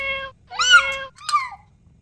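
A young child imitates a cat, giving three high, drawn-out meows with short pauses between them, loud and close.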